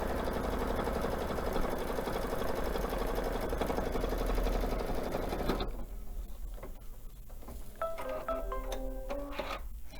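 A sewing machine runs steadily, stitching brown cover stitches with a fast, even mechanical chatter for several seconds, then stops, leaving quieter clicks and handling noises.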